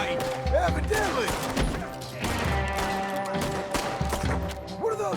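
Gunfire in Red Dead Redemption 2, a dense fusillade of booming shots and thuds layered over game music and effects, with characters talking over the continuous shooting.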